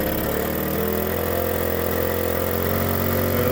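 A 1979 Suzuki JR50 minibike engine revs steadily and loudly up close, its buzzing two-stroke note holding high throughout without pauses.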